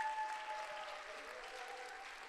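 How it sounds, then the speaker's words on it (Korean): A faint, distant wash of audience applause as a guest is called up onto a stage, steady and even for a couple of seconds. "자, 박수로 좀 모시겠습니다."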